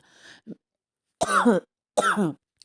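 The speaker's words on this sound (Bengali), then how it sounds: "সরি সরি বন্ধুরা, একটু কাশি হয়েছে।" A woman coughs at home, a faint throat noise first, then two loud, harsh coughs about a second apart in a quiet room.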